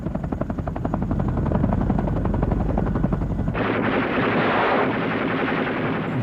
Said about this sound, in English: a U.S. Navy helicopter gunship unit, could respond quickly to any contact report